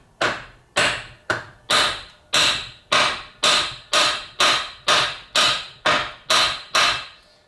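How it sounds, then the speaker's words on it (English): A lead hammer strikes metal in a steady run of about a dozen sharp taps, tapping out a bearing on a Kawasaki Ultra 150 jet pump, evenly spaced and close, each ringing briefly before the next. "Or you could try tapping it with a lead hammer"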